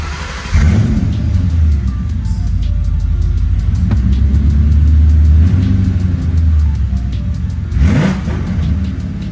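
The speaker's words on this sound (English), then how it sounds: "So I'm going to start the car" New Edge Ford Mustang GT V8 fitted with a WOT Box, cranking and catching with a loud rumble, then settling into a deep idle with a couple of sharp revs near the start and the end.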